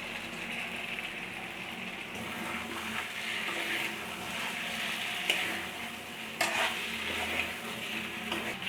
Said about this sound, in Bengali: আরও 2 মিনিটের মতো মশলার সাথে ফুলকপি আর আলুটাকে ভেজে নিয়েছি।